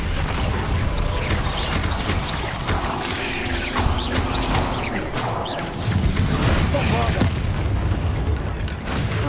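Incendio fire spell cast in Hogwarts Legacy, a dense roaring burst of game effects with booming, crackling impacts that stays loud and busy throughout, with a short call of the spell name mixed in.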